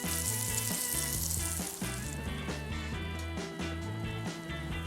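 A high-fat Japanese Wagyu beef burger patty sizzles loudly in a hot pan for a copycat Shake Shack ShackBurger, a steady dense crackle under background music.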